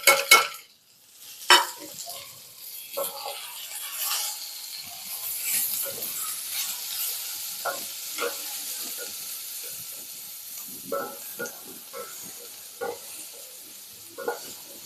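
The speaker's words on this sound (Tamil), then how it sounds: "கொஞ்சம் வதக்கட்டும். நல்லா வதங்கிருச்சுங்க." Onions sauté in a pan for an eggplant chutney, a steady sizzle with scattered spoon scrapes and clinks of stirring, fairly close and clear.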